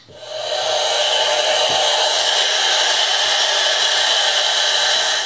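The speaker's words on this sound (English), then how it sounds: "Blow dryer." A hair blow dryer spins up and runs steadily with a loud, constant whooshing hum, close by, no speech over it.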